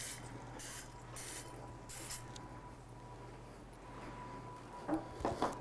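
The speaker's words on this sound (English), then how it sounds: "Take your pan over to the sink and just lightly spray each of the tins." Cooking spray hisses onto muffin tins over a kitchen sink in several quick, short bursts, faint and close, followed by a few light clinks and knocks of the metal pan.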